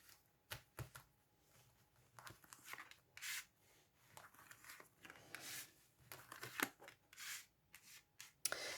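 Tarot cards are shuffled by hand in a quiet room, giving soft, irregular riffles and rubbing bursts with brief pauses between them, close and faint.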